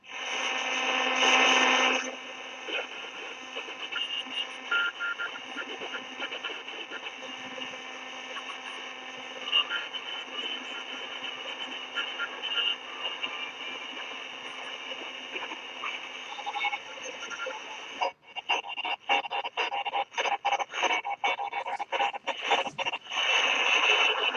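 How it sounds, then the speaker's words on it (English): Signal from an emergency radio, one of the FR200 or FR250 models, tuned to a Morse code transmission: steady tonal hiss and carrier with faint beeps, breaking into rapid choppy pulses near the end, with no talk. "This is the Morse code one."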